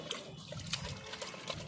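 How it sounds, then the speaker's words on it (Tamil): Water splashes and trickles softly as utensils are washed by hand in standing water, with small clinks and drips close by and no talking. "இந்த தண்ணியிலே நாங்கள் ஜாமான் கழுவிட்டு இருக்கிறோம்."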